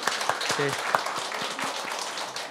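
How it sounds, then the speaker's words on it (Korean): A church congregation at a Sunday worship service claps in blessing, a steady patter of applause heard under someone speaking over it. "다시 한번 우리 박수로 한번 큰 박수로 축복합시다"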